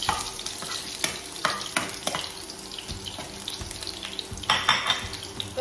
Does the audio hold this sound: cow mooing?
no